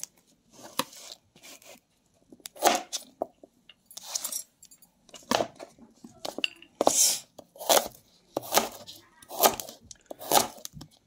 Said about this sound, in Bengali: এভাবে আমি গাজরটাও কুচিয়ে নেব।